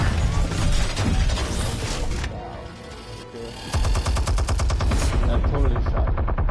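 Gunfire in the Batman Telltale video game: sustained rapid automatic bursts, loud and close, broken by a short lull before a fresh volley of fast repeated shots.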